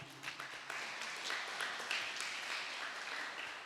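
A church congregation claps for Jesus during a Portuguese-language worship service, a fairly faint, sustained wash of many hands with a few sharper claps standing out near the start.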